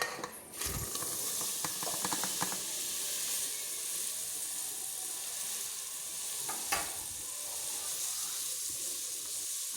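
Onions and chilies frying in hot oil inside a pressure cooker, a steady close sizzle with brief stirring scrapes near the start and again later.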